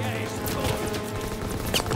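Gunfire from the trenches in the Call of Duty WW2 video game, a rapid, dense rattle of distant shots crackling over a busy battlefield din, brief and continuous, with voices shouting over it.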